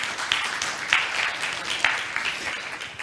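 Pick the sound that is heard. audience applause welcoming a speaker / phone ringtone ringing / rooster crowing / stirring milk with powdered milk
audience applause welcoming a speaker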